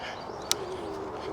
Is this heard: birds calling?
yes